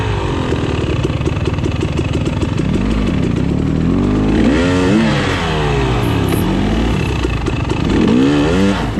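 A 2022 KTM 300 XC-W two-stroke dirt bike engine revs hard and loud during a six-hour charity off-road endurance race, rising and falling as it grips for traction on dirt, close and continuous throughout.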